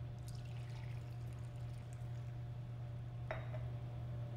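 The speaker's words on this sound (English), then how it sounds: "We have a cup of coffee, and we're gonna pour it into this mug." A cup of coffee is poured into a mug in one quick splash near the end, over a steady low electrical hum with no talking.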